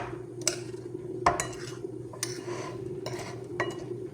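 A spoon stirs a chicken thigh marinade in a bowl, giving a few distinct clinks and scrapes against the dish, spaced out over a low steady background hum.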